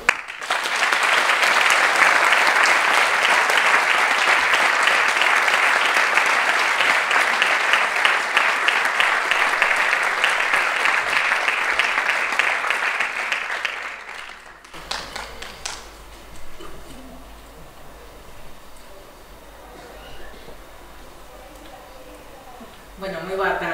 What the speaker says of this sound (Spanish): O aplauso tamén é para vos.